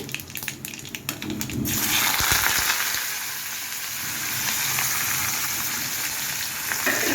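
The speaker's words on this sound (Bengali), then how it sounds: "তেলটা গরম হয়ে গেছে এবার আমি সর্ষেটা দিয়ে দিলাম" Mustard seeds spluttering in hot oil in a pan, a loud, dense crackling sizzle that bursts in after a quieter start and keeps going steadily to the end, with no talking.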